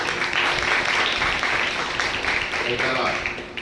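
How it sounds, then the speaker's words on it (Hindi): Steady applause from a crowd carries on for several seconds, loud and continuous, thinning slightly toward the end. "एक बार ताली बजाई जा रही है"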